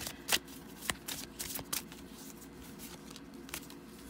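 A tarot deck is shuffled by hand, with soft riffling and several sharper card snaps at irregular intervals, close up and without any talk.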